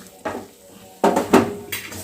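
A metal lid is set onto a pot of Bengali fish curry (bata fish with potato and pointed gourd), giving a few sharp clanks and knocks, close and alone.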